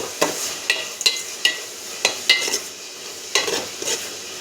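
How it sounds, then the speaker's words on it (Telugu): Onions frying in a pan for a village-style fish curry are stirred with a utensil, giving repeated scraping strokes over a steady, loud sizzle with no voices. "బాగా కలుపుకుందాం."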